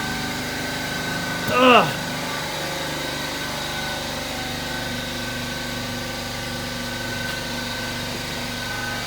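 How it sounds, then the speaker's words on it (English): An air compressor runs in a workshop with a steady mechanical drone throughout, and a brief vocal grunt cuts in early on. "And there goes the compressor right on cue."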